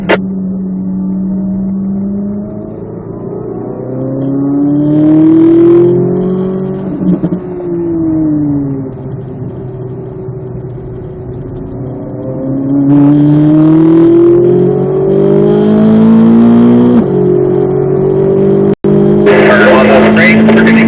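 A Corvette Z06 race car accelerates around a track, its engine note climbing and dropping through gear changes, loud and close, while a driving instructor talks over it.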